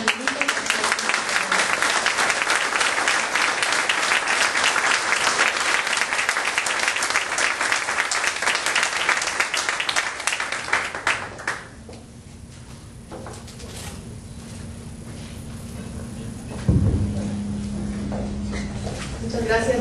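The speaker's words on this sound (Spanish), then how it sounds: "Les queremos brindar un aplauso a todos nuestros" Dense, sustained applause from a large crowd at a public forum fills the first half, then stops abruptly, leaving quieter room noise with a low hum.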